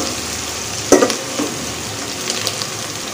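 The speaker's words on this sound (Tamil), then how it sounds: "5 to 10 minutes இதை எல்லாத்தையும் நல்லா வதக்கி எடுத்துக்க" Green chillies and onions sautéing in a pan give a continuous close sizzle, with a brief louder stir and scrape near the start and softer stirring later.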